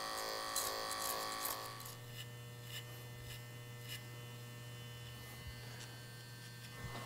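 Electric hair clipper buzzing during a side-part fade haircut, a faint steady hum close by, with brief cutting strokes through hair at the start before the motor drones on alone.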